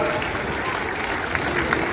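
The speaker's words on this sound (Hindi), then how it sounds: "जोरदार तालियों द्वारा अभिनंदन।" Audience clapping at an Arya Samaj foundation day ceremony in Delhi, a steady wash of applause with crowd noise throughout, moderately loud.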